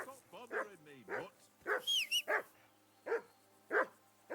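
A dog in Kingdom Come: Deliverance 2 barks and yips in short bursts, with whimpering tones between them and an irregular rhythm. The barks sound fairly close, and a voice speaks over part of the sound.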